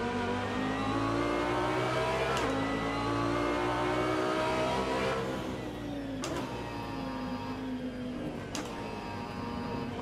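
An Audi R8 GT3 race car in the Assetto Corsa racing game drones with a loud, steady engine note that shifts in pitch as it brakes, with a few brief sharp noises cutting through; no talking.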